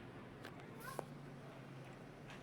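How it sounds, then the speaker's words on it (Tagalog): Newborn kittens found on a sidewalk give one or two brief, faint high mews that stand out against a steady low hum and background noise. "Kawawa naman itong mga pusa."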